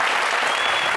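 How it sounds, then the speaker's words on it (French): An entertainment show's audience claps briefly. The applause is loud and dense and runs without a break. "On applaudit tout le monde, s'il vous plaît."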